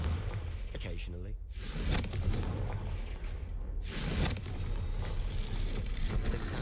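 Confringo blasting spell cast in Hogwarts Legacy, a loud fiery burst with rumbling booms and crackling explosive noise through the clip, a second burst near the end, and a voice speaking over it.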